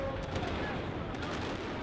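Fireworks set off at an anti-abortion celebration at a street demonstration in Argentina, heard as a dense, continuous crackling rumble of rapid bursts, loud and close, with crowd noise mixed in.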